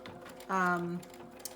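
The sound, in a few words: sewing machine doing a straight stitch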